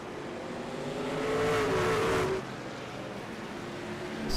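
Race trucks roar through a sim-racing truck series event, a continuous engine drone with a rising, revving tone that swells near the middle and then settles back to a steady hum.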